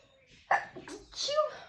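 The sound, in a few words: sneeze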